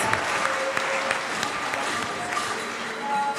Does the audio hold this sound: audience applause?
yes